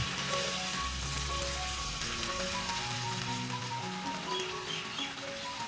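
Chili and onion stir-frying in a pan with a little added water, giving a steady, dense sizzle and crackle that runs without a break the whole time, fairly close, with no voices.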